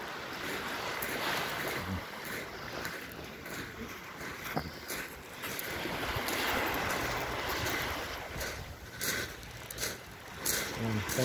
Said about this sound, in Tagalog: Ito yung dagat naman.